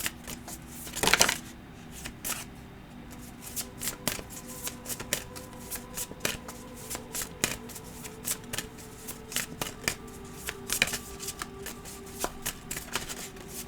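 Tarot cards are shuffled by hand in a quick run of soft riffling and slapping clicks, close and moderately quiet, with one louder burst near the start and no talking.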